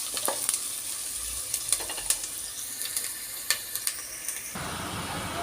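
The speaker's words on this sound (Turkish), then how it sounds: "Şimdi kuru soğanlarımı Bunları kavuruyoruz arkadaşlar." Dry onions frying in hot oil in a pot, a steady sizzle with sharp clicks and stirring scrapes spread throughout, close and moderately loud, the sizzle growing denser near the end.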